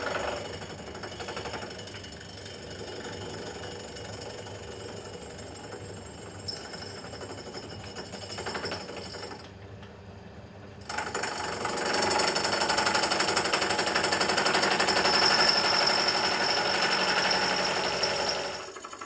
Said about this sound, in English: The first thing I do is set up the centre portion of my milling machine using the horizontal cutter to mill the end surfaces true and flat.